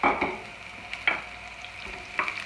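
Garlic and shallot hit hot coconut oil over medium heat, crackling in a soft sizzle punctuated by three or four quick spatula scrapes.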